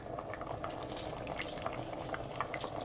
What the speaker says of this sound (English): we're gonna just go ahead and stir this into the lentil dal